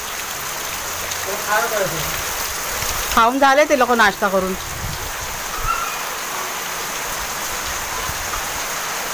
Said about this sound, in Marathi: जोरदार पाऊस एकदम चाललाय.